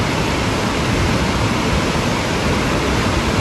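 Water rushing at Srisailam Dam, a loud, dense and unbroken roar of churning water filling everything evenly from start to finish, with no voices.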